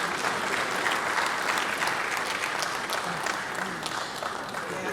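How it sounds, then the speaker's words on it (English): Sustained, dense applause from an audience at a Nigerian National Social Safety Net coordinating event fills the room steadily and evenly, with no break. "Please sustain the applause"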